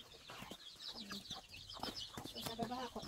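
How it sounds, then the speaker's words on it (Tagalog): Chickens and turkeys on a farm clucking and calling in a busy, overlapping flock chorus, with repeated short calls at close to middle distance over steady outdoor background noise. "ayan yung mga manok namin. Ayan, manok, tsaka pabo."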